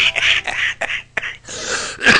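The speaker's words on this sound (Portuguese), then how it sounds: "E é tosse também!" Several short, harsh coughing bursts at a literary fair in Niterói, close up, separated by brief pauses and ending with a louder rasp.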